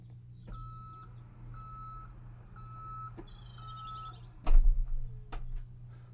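An Audi Q6 in reverse gives a steady series of about five evenly spaced electronic parking-sensor beeps, close and clear over a low cabin hum, followed by a couple of sharp clunks near the end.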